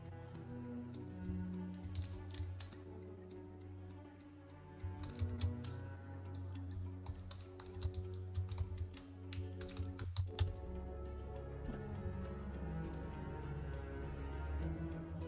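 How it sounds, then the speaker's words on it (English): Steady typing on a computer keyboard, a dense run of quick clicks and key taps continuing throughout at close range, with a low hum and background sound underneath and no talking. "I was just typing out there"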